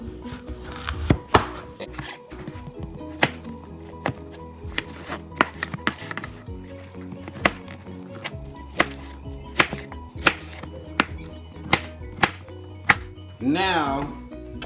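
A knife chops zucchini and squash on a cutting board in a home kitchen, a steady series of sharp, close thunks at irregular intervals, with a short scraping rustle near the end.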